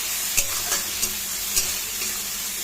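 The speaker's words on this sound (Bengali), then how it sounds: "ভালো করে মশলাটা একটু কষিয়ে নেব।" Ginger-garlic paste, coriander paste and green chillies sauté in a pan, giving a steady, close frying hiss broken by a few sharp scrapes of a spatula stirring the spices.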